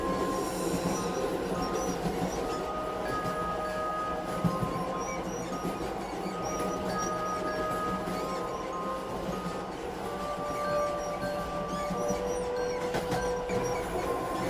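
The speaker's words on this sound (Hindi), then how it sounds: "ट्रेन चलने लगती है।" A train starts to move as a sound effect in a spoken story, a steady rolling rumble with metallic wheel squeals and clanks running on its own for several seconds.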